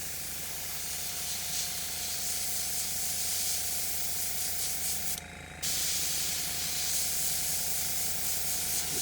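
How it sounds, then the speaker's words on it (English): An airbrush sprays paint in a steady, close, soft hiss with a brief break partway through, as white is applied to a figure's beard. "because this is an airbrush,"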